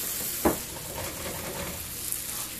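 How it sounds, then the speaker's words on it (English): Moong dal stirred with ghee in a hot pan gives a soft, close sizzle and scraping stir, with one sharper knock early on and no talking. "So I'm just mixing dal along with the ghee"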